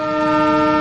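A train horn blares in one steady, loud, sustained tone close by for just under a second, with no voices over it.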